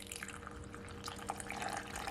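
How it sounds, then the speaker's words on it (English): Water poured slowly into a well in homemade apple pie dough, a soft steady trickling and splashing close by, with faint drips and small clinks near the end. "I'm just gonna make a hole"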